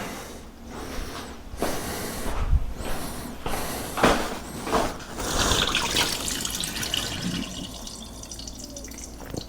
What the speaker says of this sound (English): we're going to go ahead and pour this off and dry it out